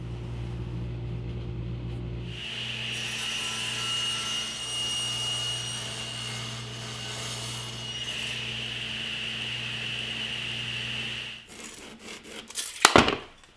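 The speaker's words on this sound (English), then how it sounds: "Now I'll move on to the legs of the bench, which are made of red oak, and I'll get started by cutting them to size." A power saw cuts red oak bench legs to size: a sustained high whine under load for about nine seconds, then the blade spins down, followed by a few clattering knocks of wood being handled.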